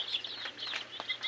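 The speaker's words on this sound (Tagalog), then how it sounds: "Ito yung organic chicken." Native chickens clucking softly at night on a farm, a few close, scattered clucks and chirps over a low hum, brief and fairly quiet with no talking.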